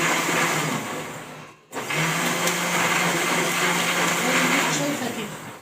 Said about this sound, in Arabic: عشان هضربهم كده مع بعض في الخلاط